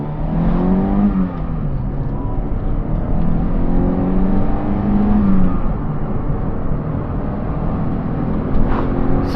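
Toyota Corolla FX-GT hot hatch from the 1980s with its 4AGE engine revving hard under acceleration, a steady loud drone with rising and falling pitch sweeps heard from inside the car, no talk.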